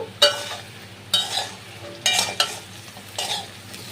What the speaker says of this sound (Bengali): বেগুনটাও বেশ কিছুক্ষণ নেড়ে ছেড়ে ভাজা করে নিতে হবে